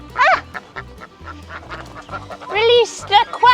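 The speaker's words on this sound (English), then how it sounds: "And our one remaining duck" A duck on a farm quacks in several bursts, loud and close, against quiet outdoor background noise.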